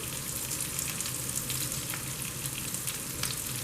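Shrimp and salmon fry in garlic butter in a pan, a continuous crackling sizzle with small pops and scraping stirs, steady and close, without speech.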